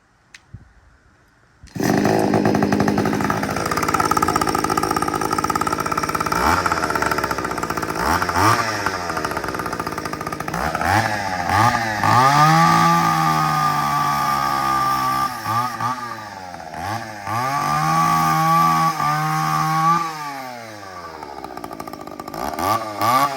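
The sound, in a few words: chainsaw running and cutting wood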